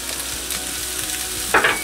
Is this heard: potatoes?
yes